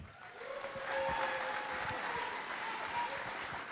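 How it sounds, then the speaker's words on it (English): A crowd at a campaign event in Exeter, New Hampshire claps steadily for a few seconds, a dense even patter of many hands at moderate distance. "please a nice round of applause for Renee Plummer."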